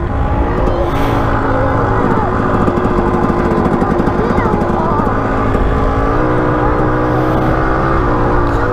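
A motorcycle engine is kicked over and then runs as a steady, loud, close putter throughout, with a rough, continuous rhythm and no clear pauses.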